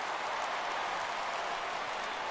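A baseball crowd in a PS4 video game roars and cheers, making a steady, wash-like noise from a full stadium with no talk over it.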